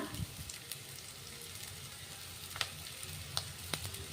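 Curry leaves sizzle and crackle in hot oil for a drumstick stir-fry, a steady quiet hiss with a few sharper pops and spits near the end, no voices.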